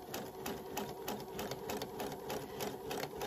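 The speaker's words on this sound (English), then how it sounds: "So now I've sewed across on the line." A sewing machine stitches quilt binding along a marked line, running steadily with a fast, even, rhythmic clatter throughout, close and moderately loud with no talking.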